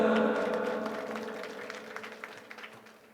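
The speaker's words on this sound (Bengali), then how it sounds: "কাইম ভাইয়ের জন্য হাতে তালি হবে না" An audience claps for Kaim bhai at a gathering of students in a hall, starting as loud, dense applause and tapering off over a few seconds.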